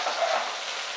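Onion, chillies, almonds and cashews cook slowly on a low flame in a pan, giving off a steady, gentle sizzle.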